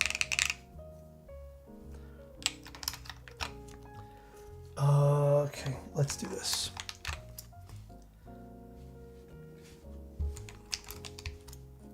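Keystrokes on a Naja 68 mechanical keyboard fitted with polycarbonate keycaps, a quick burst of close typing clacks with scattered single presses, heard under background music and a speaking voice.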